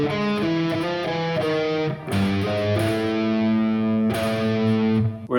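Distorted electric guitar plays the first guitar part of a dark riff, a steady sequence of sustained heavy notes changing pitch every second or so, loud and alone.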